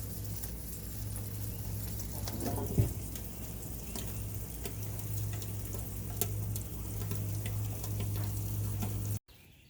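Breakfast food fries in a pan at a campsite at Santee State Park with a low, steady sizzle and faint crackle, broken by a brief clatter near the start, before cutting off abruptly at the end.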